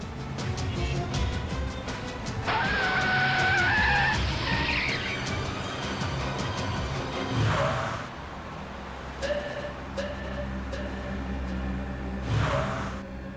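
A car swerves and skids on the road, a sharp tire squeal rising over engine noise for a couple of seconds, followed by lighter thumps and passing vehicle sounds nearby.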